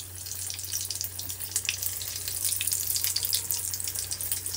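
Chili pepper fritters (mirchi vada) coated in batter frying in hot oil, a steady bright sizzle with crackling bubbles at moderate level, no voices.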